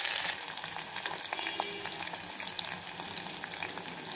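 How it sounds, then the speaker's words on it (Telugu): Chopped onion, green chilli and ginger fry in hot oil with curry leaves in a pan for wheat rava upma, giving a steady close sizzle with occasional stirring scrapes. "మెత్తబడేంత వరకు వేయించుకోవాలి, అంటే ట్రాన్స్పరెంట్ అవ్వాలి ఉల్లిపాయ."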